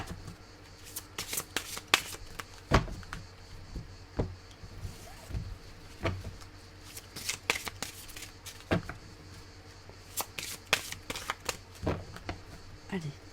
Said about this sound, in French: on va remélanger pour pas ressortir les mêmes cartes